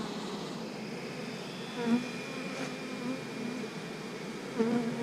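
Honey bees from an opened hive being reassembled on a queen-grafting day hum in a steady, dense drone close by, swelling slightly as individual bees pass near.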